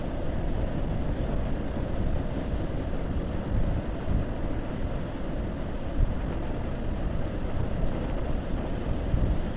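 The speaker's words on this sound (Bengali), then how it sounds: "ঢেউ আসতেছে কিন্তু একদম কিনারে আসে না" Sea waves rolling in toward a shore but breaking short of the edge, heard as a steady low wash and rumble mixed with wind buffeting the microphone, with no talking.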